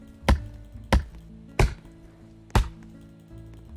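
Four loud, separate axe chops on wood with uneven gaps between them, each a sharp thud that fades quickly, from the Roblox game Lumber Tycoon 2.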